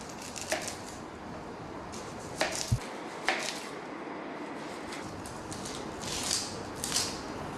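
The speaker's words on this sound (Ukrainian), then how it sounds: "Чистимо цибулю." An onion being peeled for borscht gives dry, papery crackles and scrapes in scattered short bursts, close and fairly quiet, with no voices.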